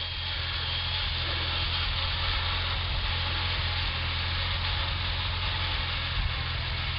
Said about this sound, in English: Uncle Jim and Cade on the tractor